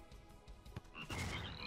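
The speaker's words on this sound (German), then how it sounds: "Frösche!" A frog croaks in the artillery video game Shellshock Live, a short gurgling croak rising out of soft game ambience and swelling into a louder bubbly burst.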